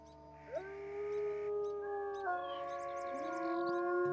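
Wolf pups in the WolfQuest video game howl together, several rising, wavering tones overlapping in a steady chorus that stays loud and continuous throughout.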